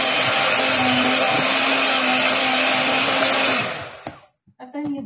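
A hand mixer beats date cake batter with a loud, steady whir for about four seconds, then switches off, leaving brief faint clatter.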